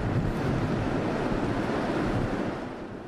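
Strong typhoon wind and high surf on the coast near Miyakojima, Okinawa: a loud, continuous roar of gusting wind and crashing waves with heavy microphone buffeting, easing slightly at the end.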